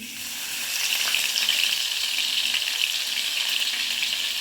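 Cumin seeds and crushed garlic sizzle steadily in hot oil, a bright continuous crackling frying hiss that holds at an even level throughout, close up with no talking.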